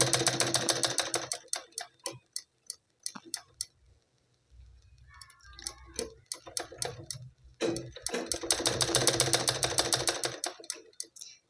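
Sewing machine stitching a blouse, bursts of rapid even ticking that stop and restart in separate runs, with quiet handling noises and faint speech in the pauses.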